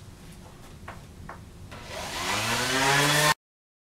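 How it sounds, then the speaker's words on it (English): A power sander works a Paralam engineered-lumber bench top to take off router burn marks, starting faint with a few light taps and then swelling into a loud, steady whir that stops abruptly. "Now I'm going to sand this down from all the burn marks from the router"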